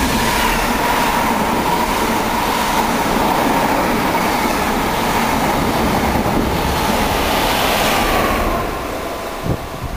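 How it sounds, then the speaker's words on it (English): A Norwich-bound Mark 3 train set passes through Needham Market station with a loud, continuous roar and rattle of wheels on rails that holds steady for several seconds before fading near the end. "we got a Norwich bound Mark 3 set now,"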